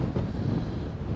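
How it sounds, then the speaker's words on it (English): Strong gusty wind roars across an outdoor homestead site near a trailer and shipping container, a dense rumbling buffet on the microphone throughout the short stretch with no voices. "It has been violently windy all day today."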